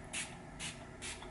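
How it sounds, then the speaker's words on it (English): A facial mist bottle is sprayed three times over a sheet face mask, each short, soft hissing burst close to the microphone with brief quiet gaps between them. "I read that you can even spray this on while you have the mask on your face"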